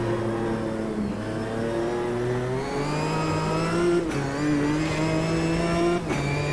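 Race car engine in Automobilista 2 revving and accelerating through the gears, a loud, continuous close-up engine note rising in pitch, with a sharp dip at each of a few quick gear changes.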